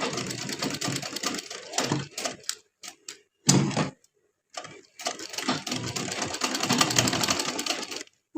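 A sewing machine stitches piping, its steady rapid mechanical chatter running in long close bursts, broken by short stops and a few brief restarts in between.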